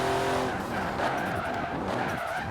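A GMC Typhoon in Forza Horizon 4 skids and oversteers, its tires squealing in a loud, sustained screech over a buzzing engine note that wavers and fades through the slide.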